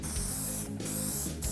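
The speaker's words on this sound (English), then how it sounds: "Always remember, when spraying primer at any time," Primer sprays from an aerosol can onto a car body repair in two long hissing bursts with a brief pause between, close and steady, with no voices.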